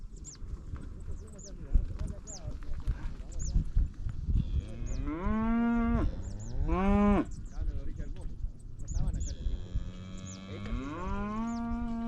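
Cattle on an Argentine farm moo loudly and close by, with several long, drawn-out calls rising and falling over a busy background of hoof and animal noise, with no talk.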